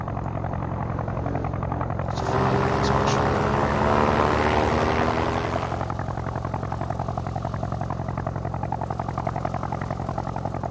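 WWI propeller aircraft engines in Sid Meier's Ace Patrol, a steady loud droning buzz with a pulsing hum that swells into a brighter, rougher roar for a few seconds before settling back.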